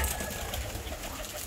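Fancy pigeons crowded in a coop coo softly and continuously, low murmuring calls layered over a faint, steady background hiss.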